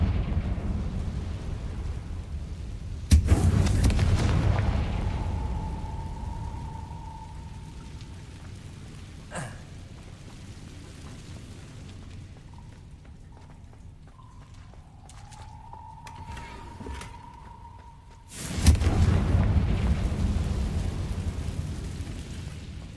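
Two loud blasts from the Confringo fire spell in Hogwarts Legacy, each a sudden explosive boom followed by a crackling, rain-like rumble, set apart by a quieter stretch of ambience with faint tones between them.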